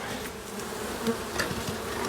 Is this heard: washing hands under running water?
no